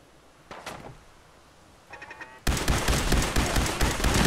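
Video game gunfire in Fallout 4: a couple of short shots, then a sustained loud burst of rapid automatic fire that fills the last half of the clip.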